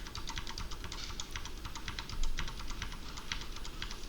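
Computer keyboard keys including Ctrl, Home and End pressed in a quick, steady run of light plastic clicks, close and quiet, with no voices.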